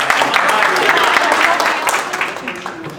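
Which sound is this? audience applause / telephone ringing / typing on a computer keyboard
audience applause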